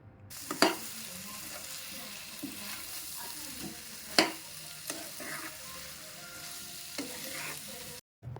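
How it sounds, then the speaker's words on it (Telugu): Potato pieces being stirred into masala in a pan for a potato and green chilli curry, a soft continuous sizzle with several sharp scraping clicks of the spoon against the pan, close and fairly quiet. "ముక్కల్ని కూడా వేసి ఈ మసాలా అంతా పీసెస్కి పట్టేలాగా మంచిగా కలపెట్టుకోవాలి"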